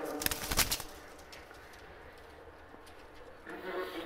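A pair of Pakistani Oman pigeons let loose, faint soft cooing with a brief flutter near the start, set against steady background noise.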